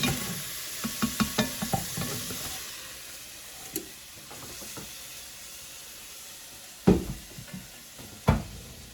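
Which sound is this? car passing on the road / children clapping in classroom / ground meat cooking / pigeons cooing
ground meat cooking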